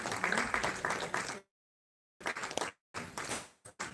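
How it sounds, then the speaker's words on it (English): An audience at a live indoor event applauds the host, bursts of clapping broken by abrupt silent gaps. "A big round of applause for Miss Harleen."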